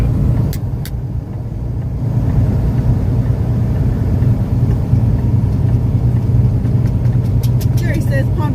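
Loaded truck on the road, its engine rumbling low and steady at close range, with a brief lighter stretch at the start and faint clicks near the end.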